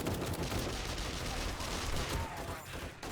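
Rapid gunfire from the game 7 Days to Die while shooting zombies during a horde night, a dense, loud and continuous barrage of shots that fills the whole stretch.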